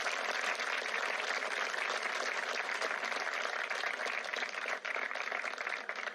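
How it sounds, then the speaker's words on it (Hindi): Loud, dense applause from a crowd at a protest rally in Mumbai, a steady wash of many clapping hands that holds at a constant level throughout with no talk over it. "जोरदार तालियां प्लीज।"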